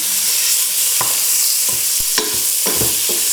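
Lamb pieces coated in a spice mix are stirred quickly in hot oil, giving a steady close sizzle with scraping stir strokes and light knocks against the pan.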